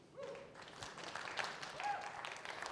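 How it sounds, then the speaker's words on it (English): An audience at a MongoDB technical talk offers faint, distant applause for the incoming speaker, a brief soft patter of clapping with murmured voices underneath. "give a big round of applause for Dawoud"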